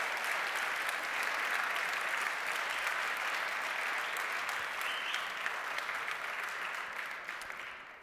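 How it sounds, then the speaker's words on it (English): Sustained applause from an audience at the Lisk relaunch event in 2018, steady and dense clapping throughout, fading slightly at the end. "Give them an applause."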